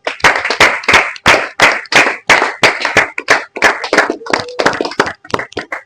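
A seated audience at a Shabbat gathering bursts into steady, vigorous group clapping, many hands close and loud in a rapid, even rhythm, with a few cheers mixed in.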